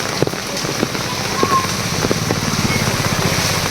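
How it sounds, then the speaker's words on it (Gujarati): Heavy monsoon rain pours steadily over a flooded street in Surat, a dense, loud hiss of drops with faint patters throughout and no break. "તમારો વરસાદ કેવો છે?"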